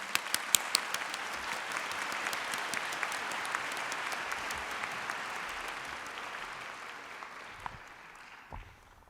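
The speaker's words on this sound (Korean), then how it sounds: "졸업생들과 학부모님들께서는 큰 박수로 맞이하여 주시기 바랍니다." An audience claps at a university graduation ceremony: dense, continuous applause from a large crowd that slowly thins and fades out toward the end.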